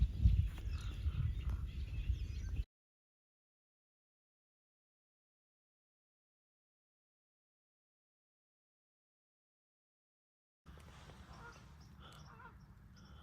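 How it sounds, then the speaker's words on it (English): Faint honking waterfowl calls come in short stretches at the start and end, separated by a long silent gap. "Not sure if you can hear, but the birds are coming in."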